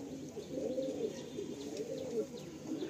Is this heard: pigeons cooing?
yes